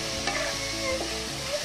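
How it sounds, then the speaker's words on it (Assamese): Bitter gourd fries in a hot pan on a heater, sizzling steadily while a spatula stirs and scrapes briefly across the bottom. "অলপ পিছত ভাজিগিলা লাৰি দি থাকিব"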